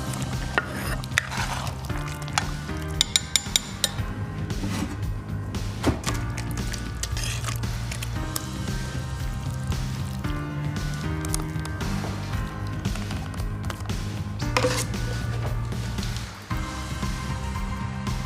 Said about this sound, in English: just shred away into nice little bite-sized pieces